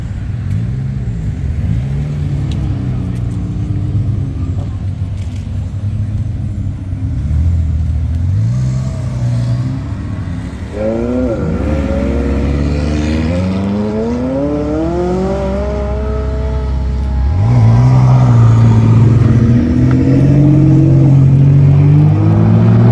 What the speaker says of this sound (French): Donc il y a toutes les McLaren qui arrivent d'un coup là.